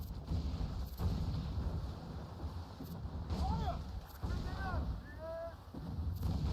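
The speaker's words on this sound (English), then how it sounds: "Ready to fire, Captain." A ship fires a cannon volley in Assassin's Creed Freedom Cry: muffled, distant booms land at irregular intervals beneath a constant rumble of sea and wind, with faint crew voices and whistling tones in between.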